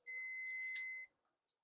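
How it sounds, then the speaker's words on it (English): Digital multimeter on the continuity setting gives a single steady electronic beep lasting about a second, clear and alone in a quiet room. "when the resistance goes to 0, it beeps like that"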